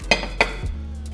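A bowl of endive salad with peaches and heirloom tomatoes is tossed with dressing, two sharp clinks of utensils against the dish followed by a softer scrape, close and brief, no talk.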